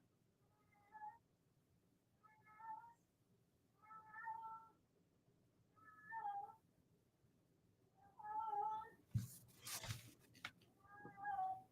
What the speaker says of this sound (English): I don't know if you can hear my cat. He sounds pitiful. He always cries.